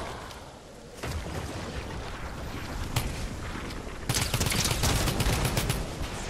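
A drum gun fires in a video game as dense, rapid crackling bursts of gunfire, with a louder sustained volley near the end over a constant roar of game ambience.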